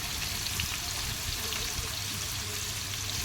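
Onion sautéing in a pan while cooking outdoors, a steady soft sizzle running throughout at moderate level under faint background voices.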